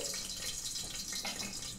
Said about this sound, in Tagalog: So ito mga ka-taste buds, maglalagay tayo dito ng mantika.